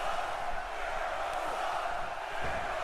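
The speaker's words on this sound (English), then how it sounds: "And the crowd once again chanting, Jericho sucks" Arena crowd chanting during a WWE 2K18 wrestling match, a steady dense roar of many voices filling the space with no breaks.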